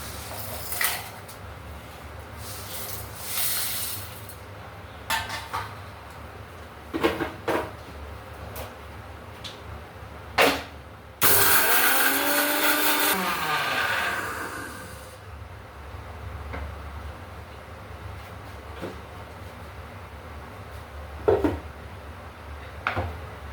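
A kitchen mixer grinder whirs through roasted spices for mutton kulambu, running loudly for about four seconds with a rising and falling motor whine. Scattered clinks and knocks of pots and utensils sound before and after.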